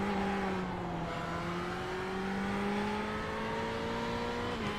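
A racing car engine in the video game Project Cars 2 drones at a steady pitch, slowly rising as it accelerates, continuous and close, with no talking.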